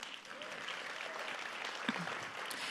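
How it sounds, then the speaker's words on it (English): Faint applause from the audience at a luncheon, a soft dense patter of clapping heard from a distance across the room, steady for the whole stretch. "Let's give them also a round of applause"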